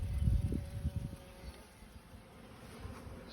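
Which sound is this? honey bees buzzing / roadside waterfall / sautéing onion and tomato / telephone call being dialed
honey bees buzzing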